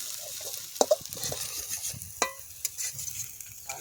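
Veg momos frying in a small amount of oil, with a quiet sizzle broken by a few sharp spatula knocks and scrapes, heard up close with no one talking.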